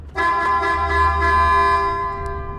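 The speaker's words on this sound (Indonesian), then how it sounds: "tim SAR kemudian membunyikan klakson mobil untuk memberikan tanda." A rescue team sounds a car horn inside a collapsed tunnel in a film scene, one loud sustained honk lasting about two seconds before tapering off, close and dominant.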